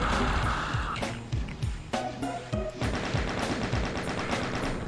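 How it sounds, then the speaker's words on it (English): Rapid gunfire from the video game Doom, repeated punchy shots in quick bursts that keep going over a steady game din, loud and close, with no voices. "We'll gun down all the enemies that we see."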